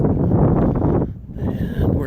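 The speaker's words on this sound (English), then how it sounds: "It's a windy day here in Alaska." Strong wind on a blustery day in Alaska roars steadily across the microphone in heavy low rumbling gusts, easing briefly before picking up again.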